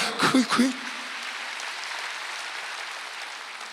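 Congregation applause at a Wednesday worship service in a Korean church, rising right after a short spoken phrase and continuing as a steady, even wash of clapping for about three seconds.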